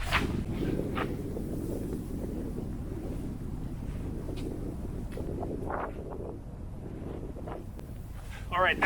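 Gusting wind buffets the microphone outdoors on a disc golf course, a steady low roar filling the whole stretch with brief rustling spikes, while a player speaks over it.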